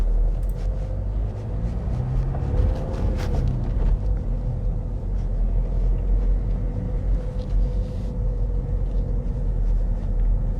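A learner's car creeps forward slowly on clutch control, a low, steady engine rumble heard from inside the cabin, with faint clicks and light rattles over the constant drone.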